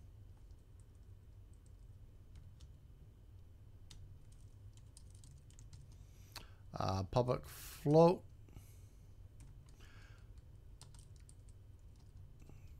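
Typing on a new computer keyboard during a level-design live stream, faint scattered key clicks under steady background hum, with someone speaking briefly in the middle.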